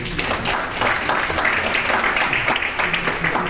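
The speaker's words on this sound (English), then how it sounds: "If you want to give him a round of applause." An audience gives a round of applause at a community event, a dense, even wash of clapping with crowd murmur that holds steady throughout.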